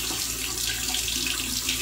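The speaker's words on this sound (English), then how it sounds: "I'm gonna run it underneath some warm water." Warm water pours steadily from a tap over a safety razor, a continuous, even splashing hiss close by with no voices.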